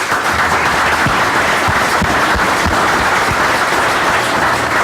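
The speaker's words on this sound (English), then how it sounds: "I think you need an extra round of applause for that" A meeting audience gives a sustained round of applause, many hands clapping in a thick, steady wash with a few sharper individual claps standing out, continuing evenly throughout.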